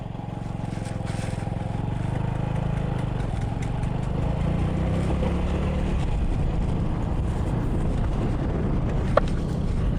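A small motorbike rides off-road on farm tracks, its engine giving a steady, close drone under constant wind rumble for the whole stretch, with one brief sharp click near the end and no voices.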